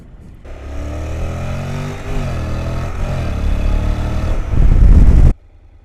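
Honda NC750X DCT 2019 motorcycle riding on grass with the rear tire slipping, a loud close engine drone rising and falling in pitch as it revs, swelling to a rough surge before cutting off abruptly.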